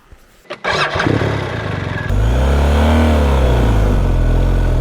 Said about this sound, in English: Plenty of revs on this incline, so I don't want to stall it.